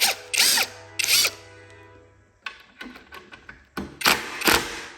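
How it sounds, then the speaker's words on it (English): A screw being driven further into place indoors, heard as short bursts of a small powered screwdriver whirring and ratcheting, with a low steady hum and clattering handling clicks between the bursts. "I'm going to put that screw in there further."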